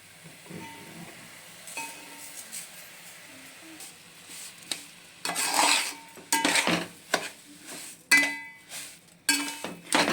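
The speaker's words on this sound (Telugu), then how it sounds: "షుగర్ వేసి అంతా మిక్స్ చేయాలా?" Sugar is stirred into carrot halwa in a pan: a spoon scrapes and knocks against the metal in irregular bursts, loudest toward the end, with quieter moments between strokes.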